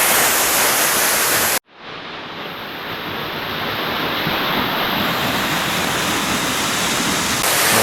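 Water pours steadily into a rock hole at Nam Tok Saeng Chan, the moonlight waterfall in Thailand, a loud broadband roar that cuts out briefly once and then returns at full strength.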